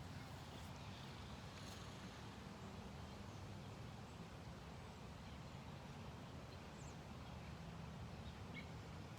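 Wind blows steadily outdoors, a constant low broadband rush that holds at one level from start to finish, with no one speaking over it.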